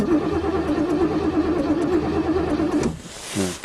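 A 2009 Chevy engine on a cold start with the choke pulled cranks in a fast, rhythmic churn for about three seconds, then briefly catches and revs with a rising, uneven burst.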